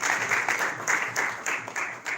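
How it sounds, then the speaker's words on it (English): Brief applause from the audience at a movie release and watch party, moderately loud, with a rhythmic clapping pattern running through the whole clip. "A round of applause for him,"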